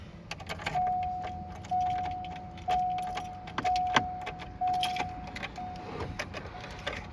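Keys jangle and rattle in the ignition of a Subaru as someone tries to start it with the wrong key, and a key-in warning chime repeats in regular pulses over the faint clatter.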